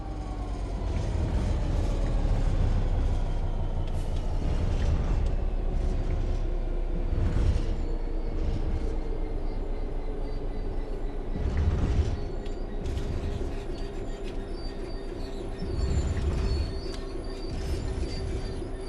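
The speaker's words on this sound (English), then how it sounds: "The train will then coast on level ground, and the train will only slow down very gradually." A train in the video game Train Sim World 3 coasts on level ground with a low rumble and a falling hum, occasional wheel squeals and clacks, gradually slowing without any voices.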